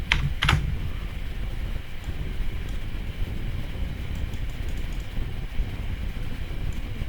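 Close, steady keyboard typing on a computer while working in Excel, soft continuous key clatter over a low background hum, with a couple of sharper clicks at the start.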